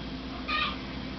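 A pet cat lets out a single short meow in a quiet room, brief and fairly close.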